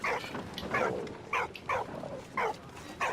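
Dog barking repeatedly at a pigeon in the video game Valiant Hearts, five or six sharp, mid-loud barks in an uneven rhythm over a faint background.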